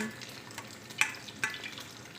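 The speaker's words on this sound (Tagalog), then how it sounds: "Fry po tayo ng sili." Chili peppers frying in a pan, a soft continuous sizzle close by with a couple of sharp pops or spatters, no voices.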